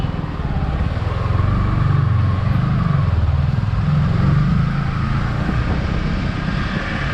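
A motorbike ridden along a rough road near Satchari National Park in Bangladesh, heard from on board: a loud steady engine drone with wind rumble, holding even throughout.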